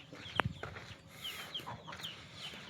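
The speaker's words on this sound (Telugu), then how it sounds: "ఇంకో కోడి చూడండి, ఇంకో కోడి పిల్లలతోని." Chickens on a farm where hens keep broods of chicks, clucking softly in short scattered calls with one sharper near squawk early on, over faint outdoor background noise.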